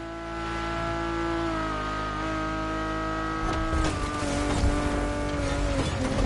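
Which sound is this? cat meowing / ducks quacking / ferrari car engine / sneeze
ferrari car engine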